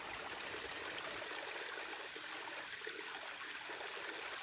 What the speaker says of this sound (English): Our first little pretty waterfall of the day, our water source.